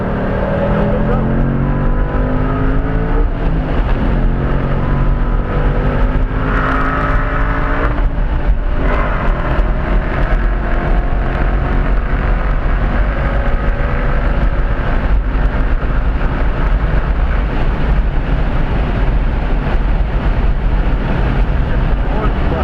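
Race car accelerating around the Road America track, loud engine climbing through gears with rising and falling pitch sweeps, under a voice talking throughout.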